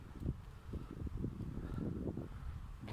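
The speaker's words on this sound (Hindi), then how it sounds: "इस वक्त इतनी प्यारी हवा चल रही है यहाँ पे" Gusty wind blowing outdoors over open green land, a steady low rumbling roar with buffeting against the microphone throughout, fairly loud and continuous.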